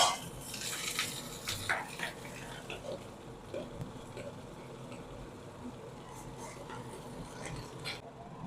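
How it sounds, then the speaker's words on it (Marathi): Grated coconut frying in a home kitchen pan, browning toward dark, with crackling sizzle, scraping spatula strokes and occasional clinks of utensils against the pan throughout. "खोबरं असं फ्राय करायचं"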